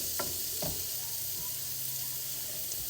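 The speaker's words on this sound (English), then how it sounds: "we're gonna add another stick of butter and more garlic. Yep, and let that melt down." A stick of butter and garlic melt in a pan with a steady, faint sizzle, broken by a couple of soft stirring scrapes near the start.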